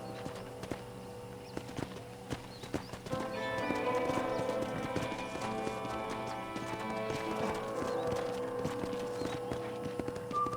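Horse hooves clip-clop at a steady walking pace in Red Dead Redemption, a continuous stream of soft hoofbeats with a brief whinny, set against ambient game sound and no talk.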